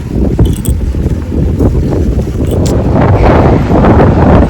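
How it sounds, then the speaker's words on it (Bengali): Strong wind sweeps across Mandarmani sea beach, a loud, continuous roar and buffeting rumble that carries on without a break. "বাপরে কি পরিমাণ হাওয়া দিচ্ছে।"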